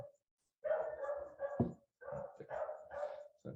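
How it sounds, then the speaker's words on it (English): A dog barks in bursts in the background of an academic panel on Brazilian labor history, its repeated yaps and a few whimper-like tones coming in clusters separated by short silences. "is the dog in the background really loud?"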